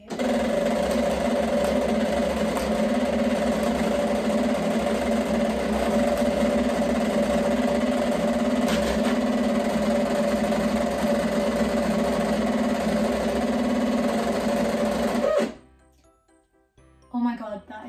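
A Silhouette Cameo 4 cutting machine powers on with a loud, steady mechanical whir and hum that runs continuously for about fifteen seconds, then stops abruptly, leaving near silence with a brief faint sound at the end.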